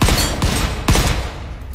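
Gunfire in the Volcanoids video game: three sharp, loud shots roughly half a second apart, each trailing off with a short echoing tail.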